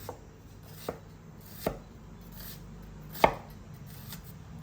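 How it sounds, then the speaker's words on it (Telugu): A knife chops onions finely on a cutting board for palak paneer, giving a few sparse, distinct chops, the loudest near the end, against a quiet kitchen background with no talking. "ఆనియన్స్ని సన్నగా కట్ చేసుకోవాలండి"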